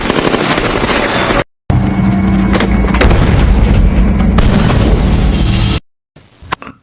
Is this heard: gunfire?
yes